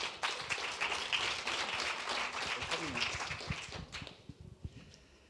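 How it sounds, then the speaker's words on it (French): An audience at a FameLab science talk competition in Lille claps in a dense patter that thins out and fades near the end, while a voice speaks over it. "Je vous demande d'applaudir Manuel Lassalle."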